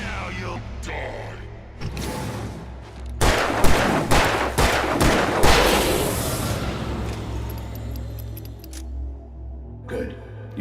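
Gunfire in the video game Alan Wake Remastered: a loud cluster of rapid shots and sharp blasts crackles over several seconds, framed by quieter scattered impacts and ambient game sound.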